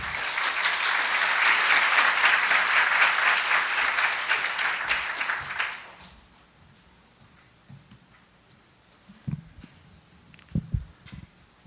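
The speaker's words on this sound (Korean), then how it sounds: "큰 박수로 맞이해 주시기 바랍니다." Audience at the opening ceremony of an international diplomacy symposium applauding steadily and loudly for about six seconds, then fading into a quiet hall with a few scattered knocks and thumps.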